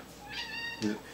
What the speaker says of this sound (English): He's interrupting. It's the cat again.